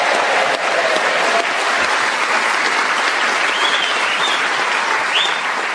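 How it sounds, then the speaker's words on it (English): A long, sustained round of audience applause from a studio crowd at a radio panel comedy show, dense and steady throughout with no talk over it. "that extra long round of applause"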